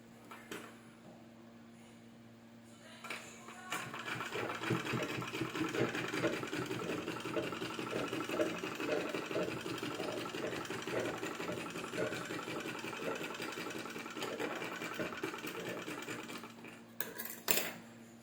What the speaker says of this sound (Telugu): ఈ రెండింటిని వన్ సైడ్ అనేసి దీనిపైన ఒక స్టిచ్ వేయాలి.